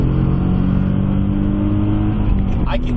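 An Infiniti G37 fitted with test pipes blares a loud, sustained exhaust drone on a downshift, with a rising engine note near the end.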